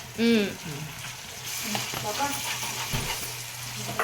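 Tomato goes into ginger paste frying in a pan for Hyderabadi bagara rice, giving a steady close sizzle and hiss with light stirring; a voice is briefly heard near the start.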